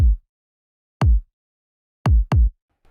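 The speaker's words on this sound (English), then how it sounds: "Next, we'll get into the drums. These are a bit more complicated because they kind of got a bunch of subs going on, but we'll start with the kick." Oliver kick drum sample, punchy and clean, hit four times alone with a final quick double, each a short deep thump that decays fast into silence.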